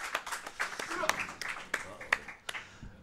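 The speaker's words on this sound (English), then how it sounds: "Let's give him a round of applause." Scattered, sparse clapping from a small crowd at a speedrun event after a Metal Gear Solid run, with a few sharp individual claps standing out before fading near the end.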